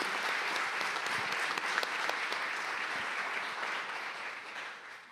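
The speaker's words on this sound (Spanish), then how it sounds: "Aplaudimos, por favor, a Nancy y a la familia." Church audience applauding for Nancy and her family, a steady wash of many hands clapping that holds evenly and tapers slightly at the end, with no voices over it.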